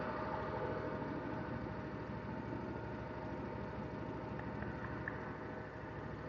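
Lawn mower engine running steadily at a constant idle-like drone, close and unbroken, with no deflector fitted to the mower.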